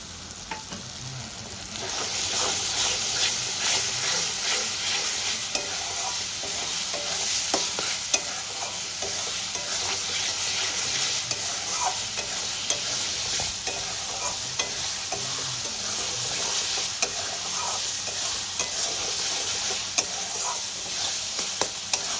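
Raisin paste fries in a pan for a raisin chicken dish, a steady, close sizzle with repeated spoon scrapes and taps of stirring throughout, no voices over it.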